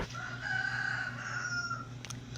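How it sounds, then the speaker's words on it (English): A rooster crows, a long, loud drawn-out call near the microphone, with hens clucking around it in a backyard flock. "Don't mind my fucking chickens"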